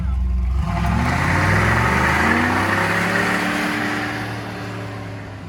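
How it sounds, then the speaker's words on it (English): Chevy IROC Camaro Z engine pulling away on the road, loud and close, with a rising then steady rumble that eases slightly toward the end. "Let's take this thing for a ride, Frida."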